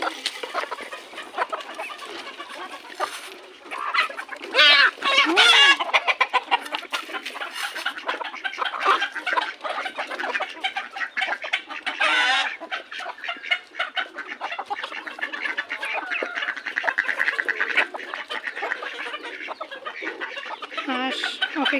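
A flock of farm chickens clucks and squawks eagerly at afternoon feeding time, with overlapping calls, a few sharp louder cries and busy rustling, close and continuous.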